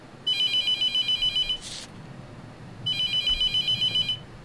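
A telephone rings twice in the horror game The Mortuary Assistant, each burst a rapid electronic trill separated by a short gap, with a faint noise blip between the rings and no talking.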